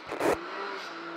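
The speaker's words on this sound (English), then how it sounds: "He's launching on us, Bull." A car launches with a sharp engine rev at the Glamis sand dunes, a brief loud burst followed by a sustained droning engine tone fading slightly as it pulls away.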